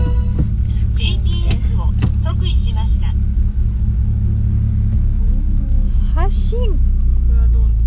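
A manual Nissan March 12SR driving, its steady low engine rumble and road noise filling the cabin throughout, with people talking over it.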